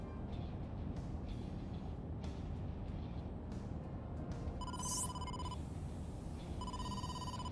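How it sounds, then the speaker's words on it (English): An incoming call rings a phone in the video game AI: The Somnium Files, with a bright electronic ringtone pulsing in two bursts over a steady, muffled rumble of traffic or an engine. "Date, incoming call from the boss."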